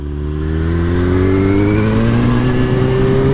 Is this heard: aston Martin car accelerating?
yes